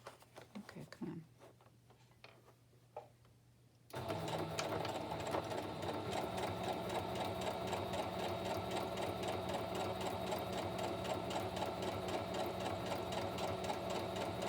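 A sewing machine stitches through paper journal pages, starting after a few quiet seconds of small handling sounds and then running steadily and loudly with a fast, even mechanical rhythm to the end.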